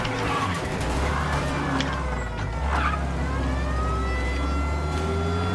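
A wailing police car siren in the video game Mafia rises and falls over steady engine rumble, continuous through the scene with talk faintly underneath.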